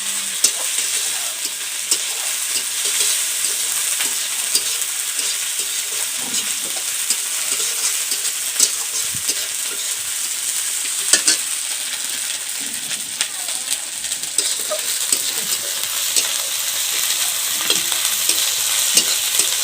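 A ground paste of ginger, garlic and cumin fries with five-spice seeds in hot oil, sizzling loudly and continuously up close while a spatula stirs and scrapes through it.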